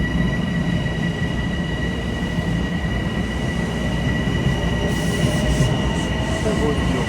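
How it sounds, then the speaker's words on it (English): A Metro North train departing Scarsdale station, with a loud, steady rumble of railcars, high wheel squeal and a faint rhythmic clatter running throughout. "We're waiting for the train to depart."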